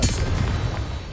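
A Confringo blasting curse detonates in Hogwarts Legacy, giving a loud, dense, low rumbling boom that lasts through the whole moment with no clear break.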